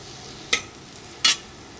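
Spices fry in a pan for bread pulao, and a spoon stirs them in two sharp scraping strokes over a quiet, steady sizzle. It is close up and has no talking.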